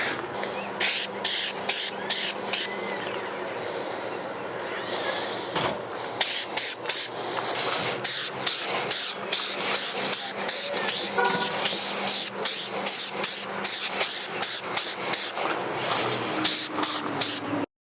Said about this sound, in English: now let's go ahead and do the clear coat.